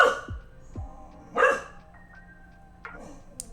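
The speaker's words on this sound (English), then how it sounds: "What are you even barking at?" A dog barks indoors at home, likely at a neighbour arriving: a few sharp, separate barks spaced unevenly over a few seconds, moderately loud and close, with no talking.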